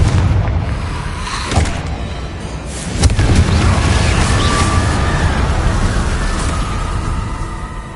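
The Confringo fire-blast spell from Hogwarts Legacy goes off in a couple of dull booming impacts over a steady rushing, crackling background.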